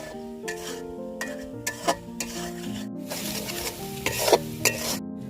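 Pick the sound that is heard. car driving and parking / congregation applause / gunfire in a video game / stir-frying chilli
stir-frying chilli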